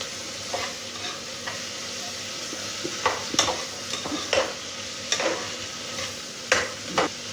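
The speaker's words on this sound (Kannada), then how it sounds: "ಈಗ ನೀಟಾಗಿ ಫ್ರೈ ಮಾಡ್ಕೊಳ್ಳೋಣ" Capsicum frying in a pan for vaangi bath, a low steady sizzle with repeated clinks and scrapes of a spoon stirring against the pan at irregular intervals.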